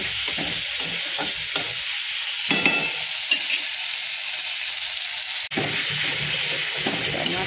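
Onion and tomato frying in a pan, an even sizzle with several scraping stirs and clinks of a utensil against the pan, close and steady, with no talking.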